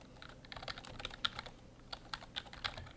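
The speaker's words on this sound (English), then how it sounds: "my keyboard is under my microphone. Microphone's right here. You can probably tell by the clicking sound." Computer keyboard keys click in quick irregular bursts close to a microphone, fairly quiet, with no talking.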